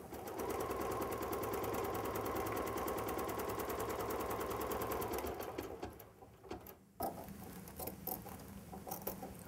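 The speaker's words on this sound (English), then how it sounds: "The machine will then embellish that seam for us so that we don't have to go back and do that by hand." A BERNINA sewing machine runs fast and steady while embroidering along a crazy quilt seam, its rapid needle patter continuous and close before it slows into intermittent bursts and handling noises.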